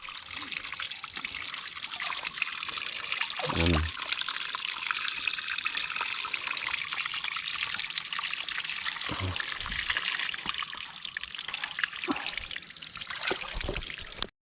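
Water streams and trickles steadily into a 16-liter insecticide sprayer tank as it is filled, a continuous close pour with a few louder splashy bumps along the way.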